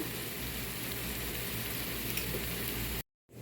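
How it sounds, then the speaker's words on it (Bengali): Onion frying in olive oil in a frying pan, a soft continuous sizzle heard up close that stops abruptly near the end and leaves silence. "পেঁয়াজটা ভেজে নেব বাদামি করে হালকা বাদামি করে ভেজে নিব"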